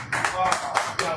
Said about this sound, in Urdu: آئیے دوستوں ایک بار زوردار تالیاں